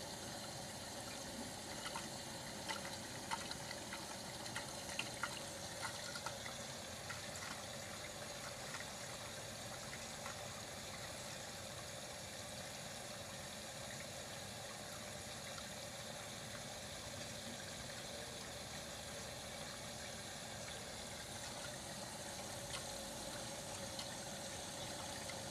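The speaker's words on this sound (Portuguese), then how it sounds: "Enchendo para o segundo enxágue, a pressão da água melhorou." A Whirlpool Duet WFW94HEX washing machine fills with water for its second rinse during a full cycle with 18 bath towels, giving a faint steady hiss and hum of flowing water that stays even throughout.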